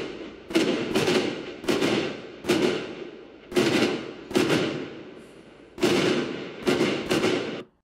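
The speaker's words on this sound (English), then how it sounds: "when the fireworks are going off, it's adding in those sounds perfectly timed with those explosions" AI-generated fireworks effects: a series of booming bursts, each opening with a sharp crack and trailing into a rolling, crackling decay, coming in irregular groups of two or three, loud and with no voices.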